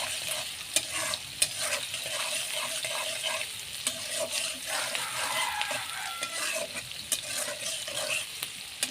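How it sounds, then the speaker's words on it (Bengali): Onion, green chilli and cardamom frying in a pan as they are stirred, a steady close sizzle broken by frequent spatula scrapes and knocks against the pan. "দিয়ে আমি ভালো মতো নাড়াচাড়া করে নেব।"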